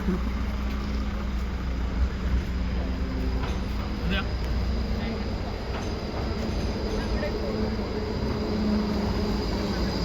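A tram rolls through the streets of Gent, a steady low rumble with faint wheel squeal that holds for the whole stretch, close and continuous under light background noise.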